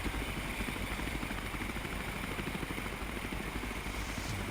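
A steady, chopping engine drone from a nearby RCMP helicopter lifting off during a river rescue, continuous and fairly loud with a rapid pulsing rhythm.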